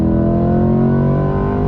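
A 2021 Chevrolet C8 Corvette accelerates hard on throttle during a track drive, its engine roaring loud and steady with a rising, strongly tonal exhaust note heard close from inside the car.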